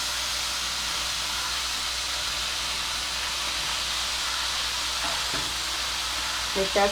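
Bitter field beans (kadve val) tipped into hot spiced oil give a steady, loud hiss and sizzle throughout, with a few clinks of a utensil near the end and no talk.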